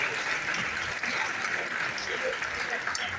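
Applause from the audience at a closing and prize-giving ceremony, a steady wash of clapping from many hands held at an even level, with faint crowd murmur beneath.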